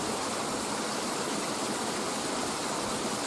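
Steady rushing water at a sluice that feeds a brook, a broad continuous wash with no break or change, close and fairly loud, with no voices.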